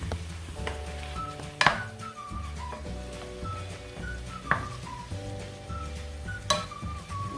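A spoon stirs Moroccan tomato salad, zaalouk, in a pan over the heat, with scraping and several sharp metallic knocks against the pan over a low simmering sizzle and faint background tones.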